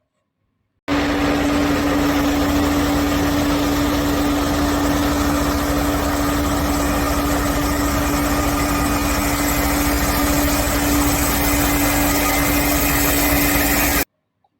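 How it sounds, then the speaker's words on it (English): Truck engine running steadily with a constant droning hum and low vibration, loud and unbroken for about thirteen seconds, then cutting off abruptly. "truck"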